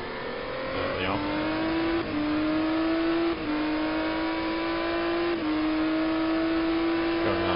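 A GT race car engine laps the Sepang circuit in a racing video game, holding a steady high drone with gear shifts at regular intervals, while a commentator talks over it.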